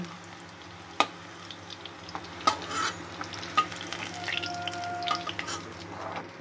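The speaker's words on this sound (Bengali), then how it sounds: "দেখুন এই তেলেতে আমি শুকনো লঙ্কা, তেজপাতা আর 5 ফোড়ন দিলাম।" Dried red chillies, bay leaf and five-spice seeds crackle in hot oil in a home kitchen, a soft sizzle broken by sharp utensil clicks and scrapes.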